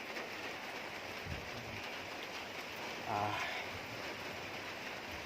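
Rain falls steadily on a fishing pond, a broad continuous hiss filling the whole clip with a brief louder splash or gust near the middle, someone speaking faintly beneath.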